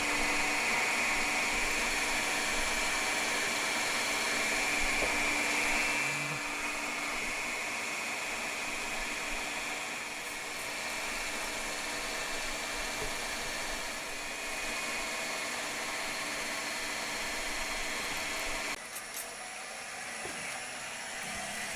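A steady mechanical whine of a drill boring a pilot hole for a reamer in a metal cylinder head cover for a Honda Monkey engine runs throughout with a constant hum, loud and close, no voices, shifting tone near the end.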